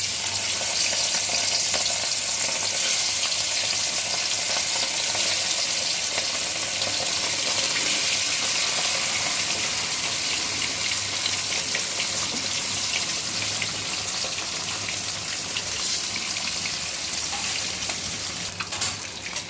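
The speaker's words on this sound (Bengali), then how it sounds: "সেই মাছগুলো আমি এক এক করে ভেজে নেব।" Pieces of katla fish rubbed with salt and turmeric fry in hot oil, giving a loud, continuous sizzle and crackle that holds steady throughout, close and without talk.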